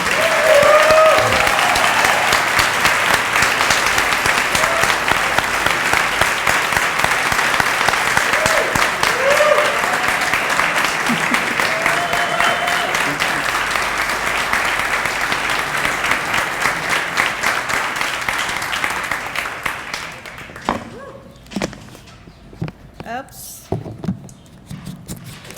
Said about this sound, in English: join with me in a very warm and thankful round of applause for the great and wonderful Barbara Kopple